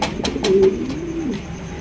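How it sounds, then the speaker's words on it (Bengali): A pair of black Lahori pigeons coo in a close, mellow burst. A few sharp clicks and taps from nearby sound early on. "এখানে রয়েছে একজোড়া ব্ল্যাক কালারের লাহোরি কবুতর"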